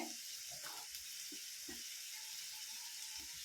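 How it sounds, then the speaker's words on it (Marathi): Finely chopped onion and green chili sauté in a pan for a dosa filling, giving a steady, close sizzle with faint stirring scrapes under it and no talking. "आता हे आपण चांगलं असं परतून घ्यायचं"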